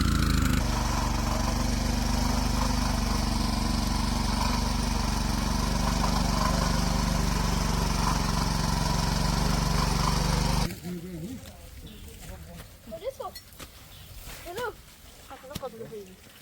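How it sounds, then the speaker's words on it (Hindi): A tractor ploughing a hillside farm field runs loud and steady with a droning engine for about ten seconds, then cuts off abruptly, leaving quieter outdoor sounds and scattered speech. "तो अब फटाफट से एक बार खेत में ट्रैक्टर जोतने का काम कर"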